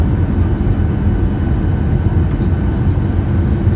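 Ryanair Boeing 737-8AS jet engines spooling up on approach, a loud, steady low roar with dense rumble heard from inside the cabin, continuous without a break.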